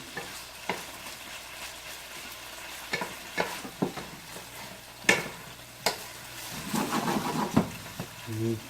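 Homemade chili with sirloin and tomato juice is stirred in a pot, with a series of irregular scraping strokes and soft knocks, fairly quiet and close.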